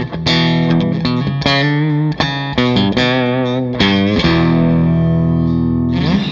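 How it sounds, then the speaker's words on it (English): Loud, close electric guitar, a Gretsch Jet on its bridge pickup, with a bright, distorted, effected tone plays a melodic line of sustained and quick notes, no voices. "Now when I go to the bridge pickup, I think it's even more pronounced."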